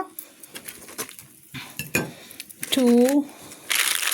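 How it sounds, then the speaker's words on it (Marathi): Fried paneer pieces, crispy from the pan, are set one by one onto plates with clinks of cutlery and dishes, while a person talks between the clatters and a brief sizzle comes at the end. "आनी आतां 1 by 1 करून प्लेटां दवरता"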